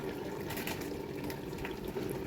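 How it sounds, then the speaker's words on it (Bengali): Water poured into a cooking pot on a stove, heated to boil basmati rice for chicken biryani, makes a steady close splashing and filling sound that runs through the whole short stretch with no talk. "এখন আমি চুলায় গরম পানি দিয়ে দিলাম"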